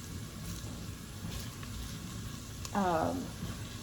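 Chili ingredients frying in a Pampered Chef pan, a soft steady sizzle close by, with a brief tonal voice-like sound near the end.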